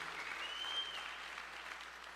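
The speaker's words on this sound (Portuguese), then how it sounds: "Você pode aplaudir o Senhor por isso?" A church congregation claps in a brief burst of applause, a steady wash of many hands that sounds somewhat distant and soft.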